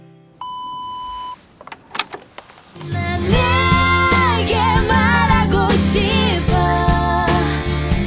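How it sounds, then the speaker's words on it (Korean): A single steady electronic beep sounds for about a second, followed by a few clicks and knocks, then music starts up loudly. "삐 소리가 나면 당신의 목소리를 들려주세요."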